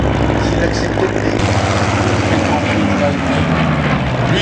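A propeller airplane flies past at the La Ferté-Alais air show, its engine drone steady and loud throughout, with a crowd-ambience wash and a commentator talking over the PA.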